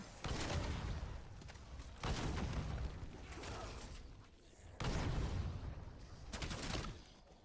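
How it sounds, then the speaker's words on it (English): Fireworks exploding in a Call of Duty video game, a series of loud crackling bursts in three main waves that each fade into a rattling tail. "Fireworks definitely helps a lot."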